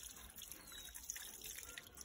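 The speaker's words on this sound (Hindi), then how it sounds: "बहुत ही गंदा पानी आ रहा है।" Dirty water running from a household tap, a faint, steady trickle and splash with small irregular drips throughout.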